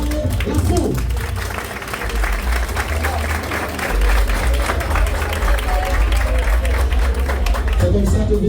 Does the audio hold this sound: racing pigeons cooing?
no